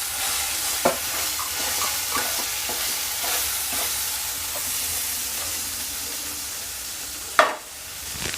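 An onion mixture for egg bhurji sizzles steadily in a hot pan while a spatula stirs it with soft scrapes and taps, ending with one sharp clank near the finish.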